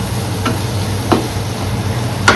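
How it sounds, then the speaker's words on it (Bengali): Ground spices with garam masala and Kashmiri red chilli powder frying in a pan, a soft steady sizzle with three quick scrapes of a spoon stirring. "এবার এই মশলাগুলোকে ভালো করে কষাবো।"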